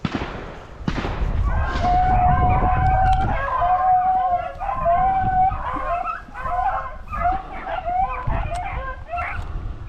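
A pack of beagles bays and yelps while hunting swamp rabbits, many overlapping howls and barks rising and falling continuously at moderate distance across the whole stretch.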